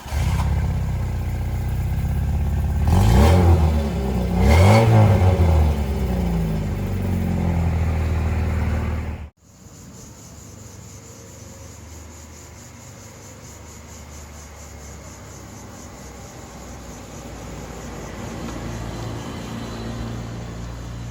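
A Volkswagen Passat TS driven on the road: steady engine and road noise runs throughout at moderate level, with a sharp cut near the middle where the sound drops and continues as a quieter interior drone, rising slightly toward the end.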